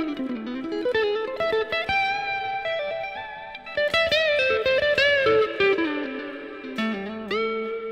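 Electric guitar with a slight crunchy overdrive through a Mesa Triaxis preamp, playing continuous melodic lines with bends and sharp picked attacks, loud and close with no talking.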